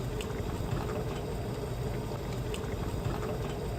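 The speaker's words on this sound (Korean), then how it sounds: "칠리 소스에 스탁의 2국자 정도 넣고 끓여 볼게요." Stock with chilli sauce bubbles in a pot at a steady rolling boil, a dense continuous gurgle heard up close with no speech.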